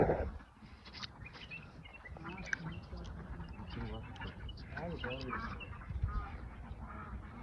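Ducks at a duck farm in Saudi Arabia quack repeatedly, moderately distant and steady, mixed in with people talking nearby.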